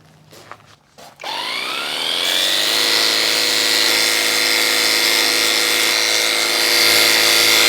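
Imoumlive 21-volt cordless pressure washer starts up after a few clicks and then runs with a loud, steady whine and hiss while spraying wrought iron, continuous and close.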